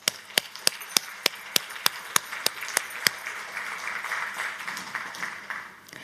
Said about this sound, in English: Please give Dorcas a warm welcome applause.